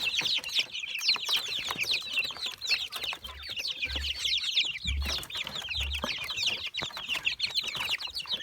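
Many mixed-breed and village chickens clucking and chattering continuously nearby, a busy overlapping flock with occasional low thumps.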